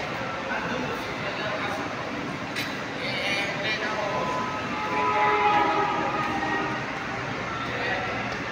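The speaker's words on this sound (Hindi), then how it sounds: "ये ट्रेन है बच्चों के लिए" A children's ride-on toy train runs on its track at a play area, a steady rumbling whirr with faint horn-like tones over a constant background of crowd noise.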